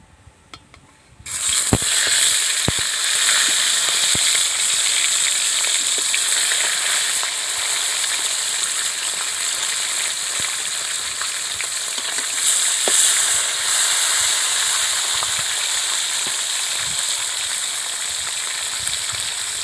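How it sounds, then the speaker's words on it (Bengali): Freshly caught pond fish frying in hot oil, a loud, constant sizzle that starts abruptly after a brief quiet moment, scattered with small crackles and pops, with no talking. "মাছ ভাজার জন্য তেলটা আমার খুব ভালোভাবে গরম হয়ে গিয়েছে। এবার আমি মাছগুলো ভেজে নেব।"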